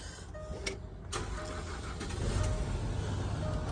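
A 2011 Land Rover Discovery 4 with a 2.7-litre diesel engine starts up with a short crank and then settles into a steady, fairly loud idle, with a few clicks and thumps early on.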